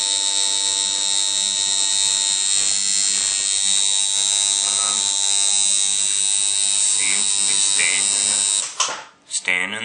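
A tattoo machine fitted with bent needles runs nearby in a loud, steady high-pitched buzz that holds for several seconds before sputtering briefly near the end.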